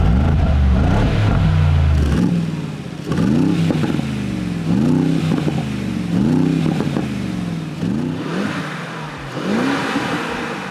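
A Mercedes-AMG G63's 577-horsepower 4-liter bi-turbo V8 revs loudly through its side-exit exhaust pipes, giving a series of sharp throttle blips with rising and falling pitch, close and alone with no talking.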